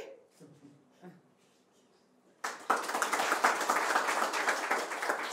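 At a higher certificate graduation ceremony, a large crowd breaks into loud, sustained applause after a quiet stretch with faint speech, the dense clapping continuing steadily to the end.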